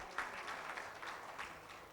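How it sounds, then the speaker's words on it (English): A conference audience applauds a professor welcoming him on stage, a soft, distant patter of clapping with a few louder bursts, fairly faint overall. "Can we have a huge round of applause?"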